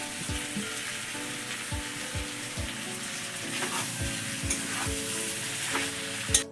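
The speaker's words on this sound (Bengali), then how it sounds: "এখন দিয়ে দিচ্ছি ভেজে রাখা চিংড়ি মাছ" Fried prawns go into a jackfruit and potato masala, which sizzles with a steady crackling hiss. Low knocks of a spatula or spoon against the pan repeat at a regular rhythm throughout.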